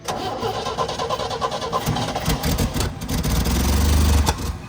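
An old Scout's engine cranks and catches, then runs unevenly with rough, rising revs, loud and close, with no talk over it.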